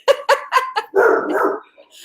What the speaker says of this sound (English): I'm sorry that she's barking like that.